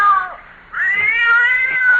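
A cat wails in a radio drama with two long, loud, rising caterwauls, the first short and falling, the second drawn out and shrill, with no speech over them.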